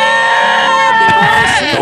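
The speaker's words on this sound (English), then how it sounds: "We got a different goat in here." A goat gives a loud, sustained, wavering bleat that breaks and cracks near the end, heard close during a morning radio show.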